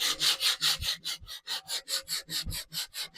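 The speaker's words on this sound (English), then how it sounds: "I'm going to start off by hand sanding it" Hand sanding of wood furniture with milk paint, heard as rhythmic back-and-forth rasping strokes, about a dozen in quick succession, close and steady with no talking.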